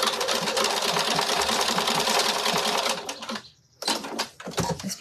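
A sewing machine stitches the top of a fabric zip pouch in a steady, loud, fast mechanical whir that runs alone, pauses briefly, then starts again.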